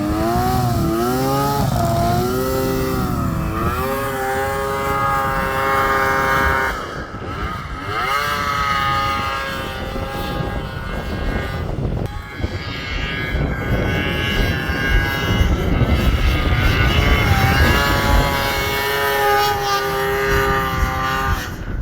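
An old snowmobile ploughs through deep snow, its engine whining loudly and continuously, with the pitch rising and falling as the throttle surges.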